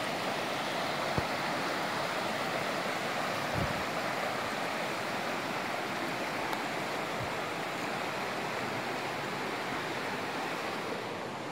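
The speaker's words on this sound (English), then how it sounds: "We come back to the creek bed here. Got a waterfall." A creek with a small waterfall at the Elkmont cabins in the Smoky Mountains pours in a constant broad rushing wash, steady and fairly loud, with no talk over it.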